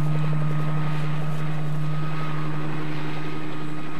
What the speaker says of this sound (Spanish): Este helicóptero de reconocimiento es el puesto de observación del comandante Cousteau